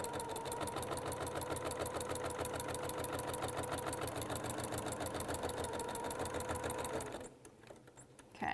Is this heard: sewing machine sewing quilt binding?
yes